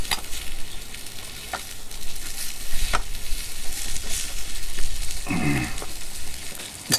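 An omelette fries in a pan on a Trangia Mini camp stove, giving a steady close sizzle and hiss with a few soft scrapes and knocks as it is stirred and turned, and no voices.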